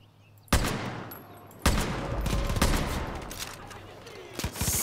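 Several loud, sharp gunshot blasts spaced apart from a sniper rifle in the video game Far Cry New Dawn, each followed by a decaying echo and a lingering noisy tail.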